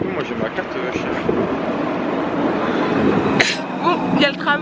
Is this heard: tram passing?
yes